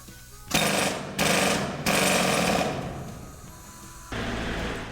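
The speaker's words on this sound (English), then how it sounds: "it's going to drill a hole into the wall" Loud drill hammering into a rock wall in several harsh bursts at a copper mining museum, stopping and restarting, then a lower steady grinding at the end.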